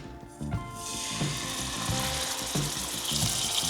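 A rested steak hits a hot pan on a stovetop, a brief clatter followed by a loud, steady searing sizzle that holds to the end.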